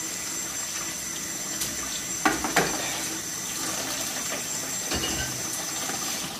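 Hot tap water runs steadily while a new cast iron wok is rinsed clean, a continuous soft hiss with a couple of brief clanks and splashes partway through.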